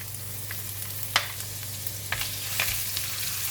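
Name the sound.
ginger stir-frying in a pan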